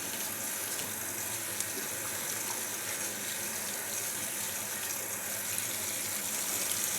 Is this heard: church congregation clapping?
no